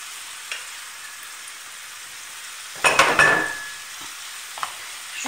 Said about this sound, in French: Et je laisse revenir à feu moyen.